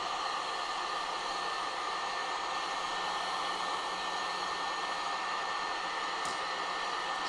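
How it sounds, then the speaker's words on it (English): A heat gun on a low setting blows a steady, unbroken roar of hot air onto the matte leg of an Ace Toys 1:15 Akira Kaneda motorcycle figure, close and constant throughout. "You want to be careful with a heat gun on matte surfaces"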